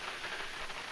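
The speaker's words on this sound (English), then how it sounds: "outside right now it's a torrential downpour" Heavy rain hisses steadily in a dense, even wash of noise, faint and continuous.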